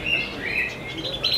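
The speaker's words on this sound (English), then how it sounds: "even the sound effects of birds singing" Recorded birdsong plays as a sound effect inside a Ford exhibit, bright chirps and tweets twittering continuously at moderate loudness over a soft background hum, with no talking.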